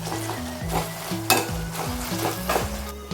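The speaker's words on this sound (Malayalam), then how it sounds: "നമുക്കൊന്ന് നന്നായി ഒന്ന് വഴറ്റിയെടുക്കാം" Young leaves sautéing in a hot pan for a home-cooked curry, a steady loud sizzle and frying crackle with stirring and occasional scrapes of a utensil against the pan, no voices.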